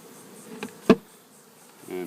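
A swarm of bees buzzing faintly and unevenly at close range on a porch, with a sharp knock midway and a steadier hum building at the end.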